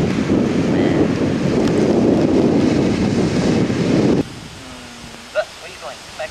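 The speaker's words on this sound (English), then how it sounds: "Look at the waves." Ocean waves on a Hawaii coast roar under heavy wind buffeting the microphone. The loud rushing noise cuts off abruptly, leaving faint background sounds and a few quiet voices.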